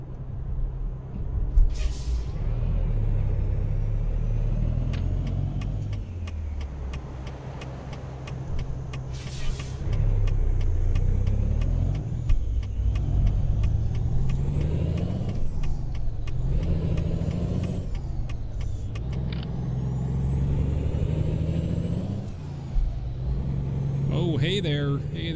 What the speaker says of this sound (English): It's the ISX straight pipe sound.